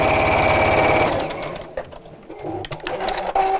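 A sewing machine stitches fabric with a fast, steady mechanical whirr for about a second, then stops; quieter handling clicks and rustles follow.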